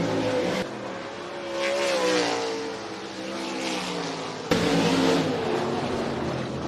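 A race car accelerating out of turn four at Rapid Speedway during a heat race, engine note rising and sweeping past, then a second loud surge close by, no talking.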